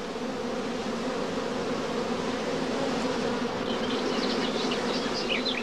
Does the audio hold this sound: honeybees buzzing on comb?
yes